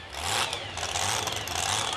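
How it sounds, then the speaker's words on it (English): Dodge Ram 50 two-wheel-drive monster truck with a 541 cubic inch Keith Black Hemi engine at a USHRA event, a continuous loud engine roar with low rumble, heard at a distance. "This is a Dodge with a Keith Black Hemi engine in it"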